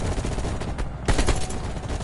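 An AK rifle fires in the video game Call of Duty Cold War, a close rapid stream of automatic shots with a heavier burst midway.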